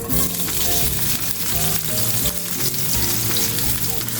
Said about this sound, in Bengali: তেলটা গরম হয়ে গিয়েছে, এখন এর মধ্যে দিয়ে দেবো পেঁয়াজ কুচি।